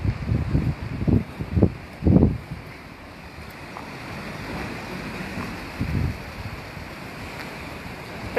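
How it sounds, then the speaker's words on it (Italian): Rough, agitated sea at Polignano a Mare rumbles against the shore under heavy wind buffeting the microphone, with a few louder surges early on, then a steady roar. "Sono venuta a vedere il mare, anche se è molto agitato"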